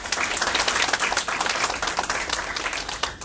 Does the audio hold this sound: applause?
yes